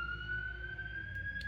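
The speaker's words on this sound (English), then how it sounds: "Ambulance." An ambulance siren sounds as a steady, piercing tone that rises slightly in pitch, heard at moderate distance over low background rumble, with no one talking.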